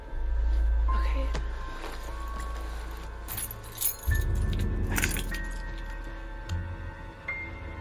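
Car keys jangle in a handful of metallic clinks against a low rumbling background, with a louder rustling handling noise partway through.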